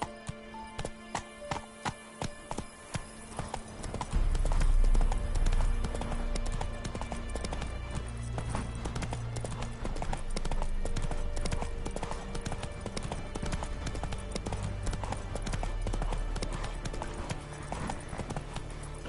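Roach the horse's hooves in The Witcher 3, first a clear rhythmic clip-clop that breaks into a steady galloping patter under a dense game soundscape, with a brief voice.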